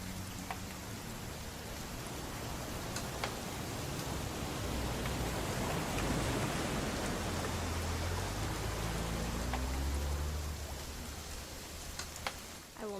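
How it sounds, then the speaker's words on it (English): Steady rain from the video game What Remains of Edith Finch, a dense, continuous patter with scattered sharp drip ticks, holding level throughout and swelling slightly in the middle with no voices. "It's gonna rain the whole weekend"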